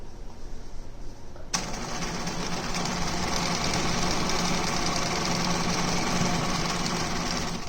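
A sewing machine stitching a cloth face mask starts up after a short quiet moment, then runs in a steady, fast, even whir to the end with no talking.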